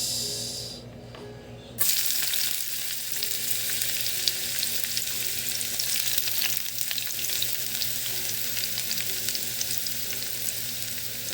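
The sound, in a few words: garlic frying in a pan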